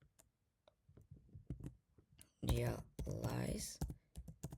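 Keys clacking on a computer keyboard while code is typed, a scattered run of quick light clicks with pauses between, partly masked by a person speaking over it.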